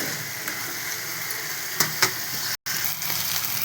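Potatoes sauté in hot oil in a pan with a steady close sizzle and a few light stirring clicks, then a brief dropout before the frying continues.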